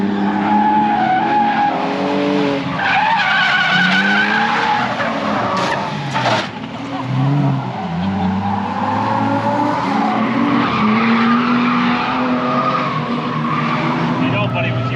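Nissan 370Z sports car driven on a race track, engine revving up and down with long tire squeals and skidding, loud and close throughout, while voices talk over it.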